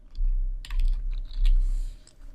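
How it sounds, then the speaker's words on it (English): Quick bursts of computer keyboard keystrokes, close and crisp, clustered in short runs as a few words are typed, with no talking. "I'm just going to put space there and type in date"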